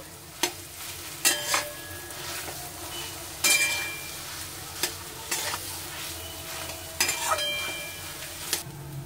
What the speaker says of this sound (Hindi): हम इसमें आलू ऐड करेंगे और आलू को अच्छे से थोड़ा लाल होने तक फ्राई करेंगे